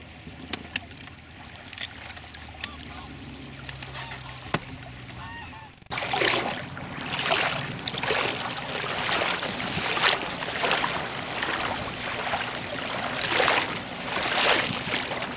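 Haswing Osa electric trolling motor pushing a small fishing boat at just over 3 miles per hour, not at full throttle, while trolling on the surface. A steady broadband wash of water and hull noise sets in partway through and continues close and constant.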